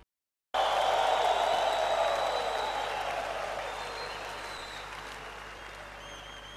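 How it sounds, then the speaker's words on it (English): A congregation in a church claps together in praise, a dense burst of applause that starts suddenly and gradually fades over several seconds, with no voices standing out. "For Jesus, you are clapping."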